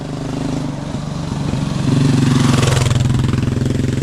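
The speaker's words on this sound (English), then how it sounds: "Here comes a motorcycle, so I better get turned around." A motorcycle approaching on a wooded trail, its engine note building from a steady drone to a louder, rising roar as it draws near and passes close by, with no talk over it.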